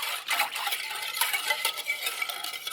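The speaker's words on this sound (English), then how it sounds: "You just want to make sure you whisk it until you get this nice color here" Brown sugar and heavy cream being whisked for caramel apple cider: a steady, moderately loud run of scraping, clinking strokes against the pot, continuous for a few seconds with no voices.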